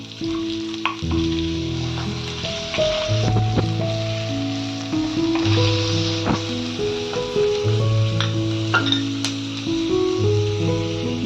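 Garlic paste sizzles steadily in hot oil for a Bengali prawn and papaya curry, with scattered spoon clinks and stirring against the pan, loud and close, with steady tones running underneath.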